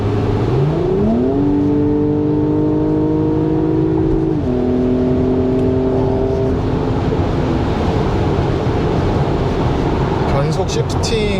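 Porsche Cayenne Coupe engine revving as its 8-speed Tiptronic automatic downshifts, the note rising and stepping through gears in a steady, loud drone. Road and cabin noise sit underneath, and someone talks over the engine.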